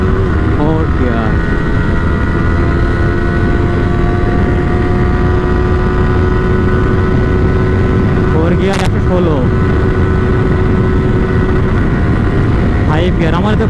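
Yamaha R15 V3 motorcycle (Indonesian variant) accelerating hard through the gears at high speed, a loud sustained engine whine with rising harmonic tones and brief shift breaks, heavy wind rush throughout.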